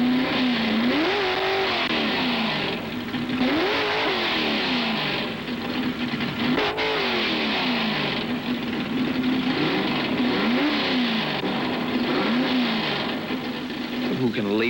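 A 1960s–70s Ford drag racing car engine revs hard and accelerates in repeated rising and falling surges, loud and close, with a steady roaring drone between pulls.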